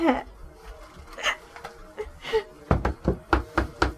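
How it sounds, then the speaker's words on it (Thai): A series of hollow knocks on a wooden coffin at a funeral, about six evenly spaced raps near the end, preceded by a voice speaking. "ไปเคาะโลงบอกให้สายันเขาฟังพระสวดสิลูก"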